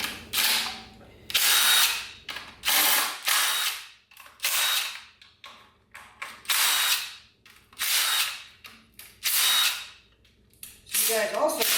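Tool loosening the oil pan bolts on a 4L80E automatic transmission: about eight short, loud, buzzing bursts at a close distance, separated by brief pauses, with light clinking between them.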